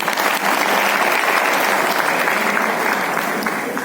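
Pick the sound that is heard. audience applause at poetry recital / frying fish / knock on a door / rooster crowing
audience applause at poetry recital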